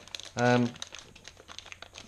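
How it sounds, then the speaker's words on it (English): Plastic bag wrapping crinkles as a Netgear Arlo wireless CCTV base station is pulled out of it, one short loud rustle alone, then quiet room noise with faint handling sounds. "Let's just get it out of its plastic bag so we can have a closer look."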